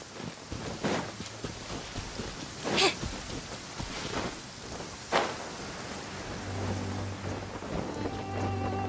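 Steady rain in the video game Genshin Impact, a continuous hiss with a couple of soft rumbling bursts like distant thunder, and a low musical drone creeping in toward the end.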